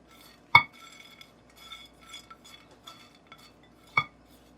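Dried fruits (black and golden raisins, almonds, cranberries, green raisins) and orange zest tossed in a bowl, with two sharp utensil clinks against the bowl and soft scraping and rustling in between.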